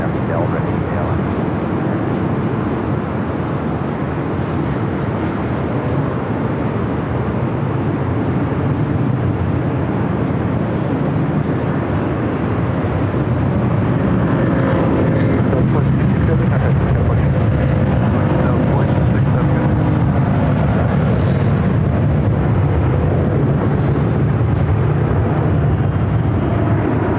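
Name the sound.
airplane taking off at LAX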